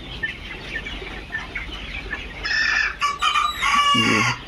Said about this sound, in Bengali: দেখুন এই পুলেটগুলো আমরা বিক্রয় করব।